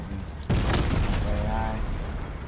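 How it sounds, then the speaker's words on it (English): Gunfire from the video game Fortnite, with a sudden loud burst of shots followed by a rumbling, fading boom, over soft in-game background noise. "Somebody's shooting at me."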